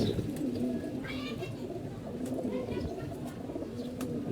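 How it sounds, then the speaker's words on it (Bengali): Pigeons, kept as flying birds in a loft and sunning themselves, coo softly and repeatedly over a steady low murmur of ambient noise, with occasional faint chirps above. "এটা আমার উড়ার কবুতর"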